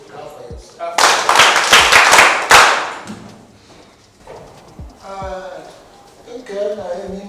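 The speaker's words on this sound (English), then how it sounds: "Good, clap for yourself." A short burst of brisk hand clapping from a group of students in a classroom scene, lasting about two seconds, followed by people talking.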